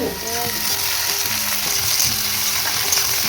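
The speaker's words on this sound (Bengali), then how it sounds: "দেখো আলুগুলো ভেজে নিচ্ছি আমি।" Potatoes fry in a pan over a lit stove, a loud close sizzle running throughout, with a steady tonal hum in the background.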